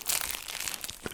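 Plastic blister wrap crinkling and tearing off a video game box, a quiet, close burst of crackling lasting about a second.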